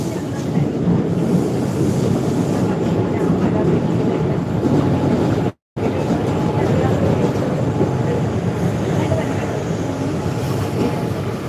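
Steady, loud rumble and rattle inside a moving passenger train, continuous wind-like roar with a brief dropout midway, no clear voices.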